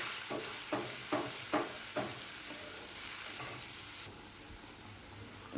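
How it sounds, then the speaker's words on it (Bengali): A paste of white mustard, tomato and green chili frying in a pan for a fish curry sizzles softly while a utensil stirs it in several regular scraping strokes, then the sizzle continues alone. "সেই পেস্টটা দিয়ে দেবো। নেড়ে নেবো আবার ভালো করে।"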